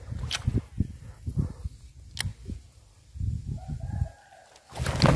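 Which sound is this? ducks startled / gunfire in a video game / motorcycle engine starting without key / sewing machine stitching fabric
ducks startled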